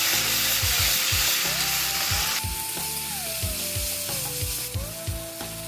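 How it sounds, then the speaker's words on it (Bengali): Ginger garlic paste sizzles in a pan with golden-browned onions for a biryani, frying steadily with soft stirring scrapes, while background music plays throughout. "এবার দিয়ে দেবো আদা রসুনের পেস্ট দিয়ে হালকা একটু নাড়িয়ে নেবো"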